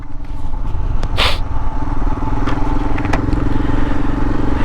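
Close, loud engine drone of a Royal Enfield Himalayan motorcycle riding on a snowy, icy road, with steady low rumble and a few clicks and taps over it.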